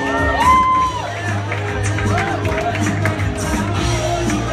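A crowd at a school lunchtime fashion show cheers and whoops, with shouts and high-pitched yells rising over a steady roar of voices throughout.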